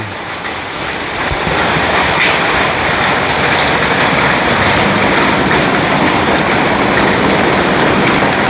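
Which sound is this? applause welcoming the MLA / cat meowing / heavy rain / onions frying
heavy rain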